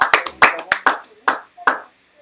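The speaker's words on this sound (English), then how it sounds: "another round of applause for" A handful of people clap in sparse, separate bursts during a live stream, about seven distinct close claps spread unevenly rather than sustained applause.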